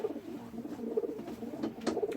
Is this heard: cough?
no